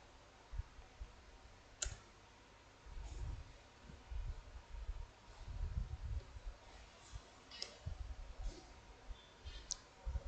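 Scattered keyboard clicks as a terminal command is typed on a computer, fairly faint and irregular with low room rumble beneath, no voice over the tapping.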